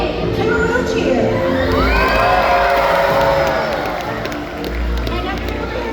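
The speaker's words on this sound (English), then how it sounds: "make sure you give him a great big killer whale cheer" A big stadium crowd at a killer whale show cheers and whoops loudly, with children's shouts and scattered clapping in a sustained roar that swells and stays dense for several seconds.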